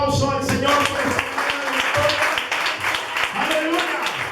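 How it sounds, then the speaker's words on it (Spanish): Church congregation clapping for the Lord, a sustained patter of applause from a crowd heard under continued talking and voices throughout. "Hay que darle un aplauso al Señor."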